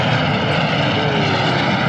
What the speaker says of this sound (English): Look at this plane flying right over Patrick and Michaela.